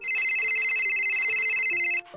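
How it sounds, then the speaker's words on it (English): A telephone rings with a bright, electronic warble held steadily for about two seconds, then cuts off abruptly, loud and close with no voices. "The phone rang."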